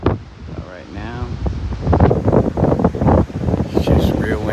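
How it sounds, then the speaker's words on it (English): Strong gusty wind ahead of an approaching storm rumbles and buffets the microphone throughout, while someone talks over it. "it's just real windy. I don't know if you can hear the wind."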